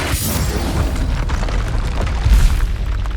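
A Confringo blasting curse detonates in Hogwarts Legacy, a deep booming explosion rolling under steady low rumble and battle noise, with a heavier burst near the end.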